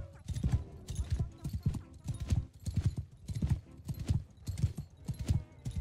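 Horse hooves galloping in Mount & Blade II: Bannerlord, a steady rapid clip-clop rhythm of repeated thudding beats across the whole stretch, with some game voice or talk faintly mixed in.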